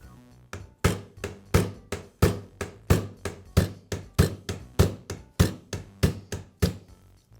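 A hammer strikes a punch to knock out a pin from a Makita jigsaw casting in a steady, even rhythm, about sixteen sharp metallic knocks, loud and close, with brief ringing after each blow.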